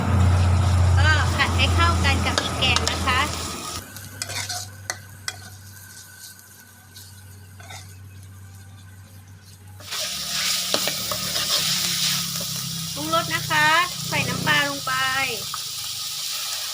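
Pork stir-frying in a pan for Thai pumpkin curry sizzles loudly, with a spatula scraping and clattering in bursts, a quieter lull in the middle, and someone talking over the cooking.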